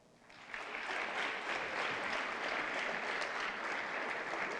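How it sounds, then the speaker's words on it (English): An audience at an employee gathering breaks into a round of applause for the Board of Education president, the clapping rising quickly and then holding as a dense, steady wash with no talk. "Please stand when your name is called so we can honor you with a round of applause."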